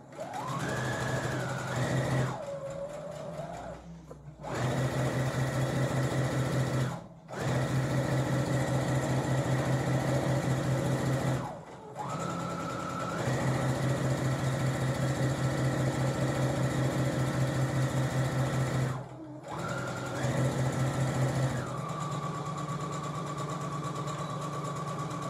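A sewing machine stitches a seam on a canvas yoga mat bag in long, steady, close-up runs of rapid whirring, broken by several short pauses as the fabric is repositioned.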